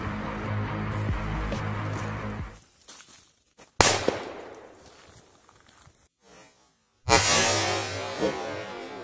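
A Magnum firecracker goes off with one sharp, loud crack, followed by hissing crackle that fades, then another abrupt loud burst of noise near the end; no voices.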